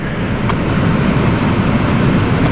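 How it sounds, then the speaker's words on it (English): A steady, loud whooshing drone of the cooling fans on a Ram ProMaster City running continuously, with no voices. "I just heard the fan cycle on the car."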